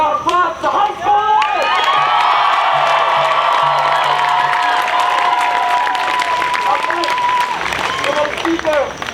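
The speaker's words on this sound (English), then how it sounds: "Give a little round of applause to high school!" Outdoor crowd at a climate strike rally in Blacksburg, Virginia, breaking into loud applause with cheers and whoops, voices rising and shouting over sustained clapping that fades near the end.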